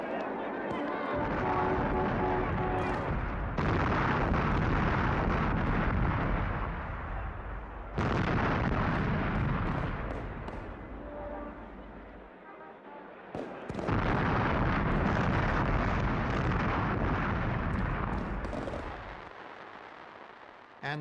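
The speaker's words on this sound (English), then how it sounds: "700 miles away in Moscow, artillery rings out in triumph once more" A triumphal artillery salute fires in Moscow as booming blasts in several long, rumbling waves, with heavy low echoes rolling between volleys and a narrating voice over them.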